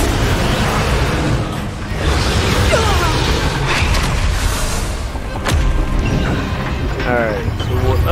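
Fiery Confringo spell explosions in the Hogwarts Legacy video game, loud booming blasts and crashes within a dense, continuous combat soundscape, with voices shouting through parts of it.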